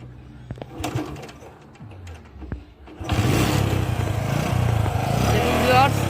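A few sharp clanks and mechanical knocks as a second-hand Bajaj CT100 motorcycle is kick-started, then the engine catches and idles loudly and continuously, with voices heard early on.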